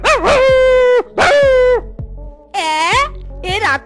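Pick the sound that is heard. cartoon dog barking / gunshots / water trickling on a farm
cartoon dog barking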